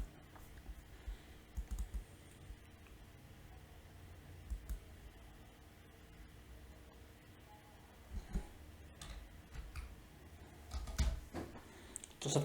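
Typing C code on a computer keyboard, with soft keystrokes and occasional louder bursts of clicks, close up in a quiet room.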